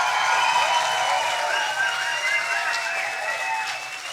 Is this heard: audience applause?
yes